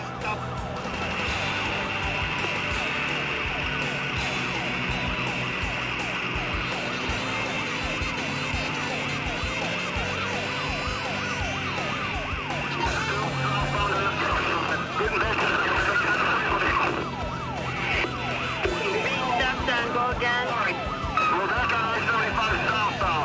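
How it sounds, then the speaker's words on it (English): Police patrol cars chase a pickup truck on an expressway, their wailing sirens sweeping continuously over the steady roar of traffic, loud and sustained, with a narrator's voice talking over them. "The three pursuing patrol cars attempt to box the pickup in and force him to the shoulder."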